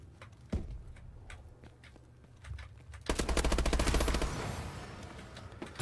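BAL-27 assault rifle fire in a Call of Duty: Advanced Warfare team deathmatch on the Detroit map: scattered single shots and short bursts first, then a sustained rapid burst, loud and close, with footsteps between.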